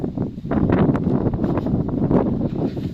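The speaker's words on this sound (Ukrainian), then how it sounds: "Вітер вала." Gusty wind rumbles across the microphone in a vegetable garden in uneven bursts over about three seconds, loud and close, with rustling in the background.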